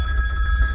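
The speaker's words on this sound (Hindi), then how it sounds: "फोन की घंटी, फोन की, फोन।" A telephone ringing indoors, a loud sustained electronic bell tone held steady over a low hum for a brief moment, with no talking.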